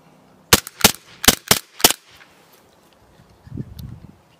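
A gas blowback airsoft pistol, a Glock 19 replica, fires five sharp, loud cracks in quick succession at close range, followed by quieter handling rustles.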